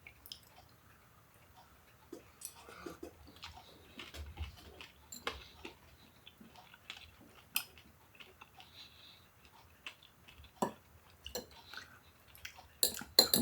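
Freeze-dried beef being chewed up close, with soft crunchy, squishy bites and clicks recurring irregularly across the stretch, quiet overall with a few sharper crunches near the end.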